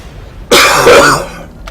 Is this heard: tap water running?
no